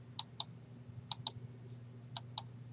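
Computer mouse clicked during course navigation: three pairs of sharp, close, quiet clicks spaced about a second apart over a low steady hum, with no talking.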